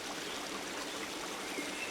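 A continuous hiss of river water tumbling over cascades in a landscape park, even and close, with no voices or other sounds.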